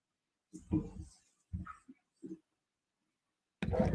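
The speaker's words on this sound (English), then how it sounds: "I'm sorry, my dog is barking." A large dog barks indoors in a few separate bursts with short pauses between them, moderately loud and close, with a final louder burst at the end.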